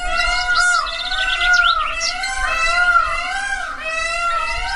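Loud, harmonic peacock calls in an animated children's story, several overlapping birds crying and wailing continuously with rising and falling tones, no speech over them.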